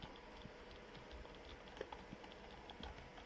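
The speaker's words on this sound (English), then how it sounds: "You can see that I am typing there." Typing on a RaceGT 2.4G wireless 102-key typewriter-style keyboard: very faint, scattered key clicks and soft ticks at an irregular pace, barely above a low background hiss.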